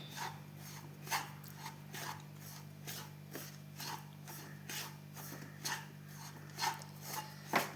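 A spoon scrapes rhythmically through an unda mixture in ghee in a pan, giving soft, regular stirring strokes, each roughly half a second apart, over a low constant hum with no talk.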